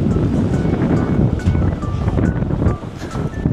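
Strong wind buffets the microphone on a swaying suspension bridge in Busan, a constant loud roaring rumble with gusty surges and faint background voices throughout.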